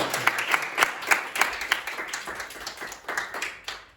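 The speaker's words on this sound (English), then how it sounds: "Now, to be honest, did you notice everyone there was giving a very big round of applause, and Joanna waited about 10 seconds here." A crowd claps steadily, a dense patter of many hands applauding at moderate volume, with faint voices mixed in.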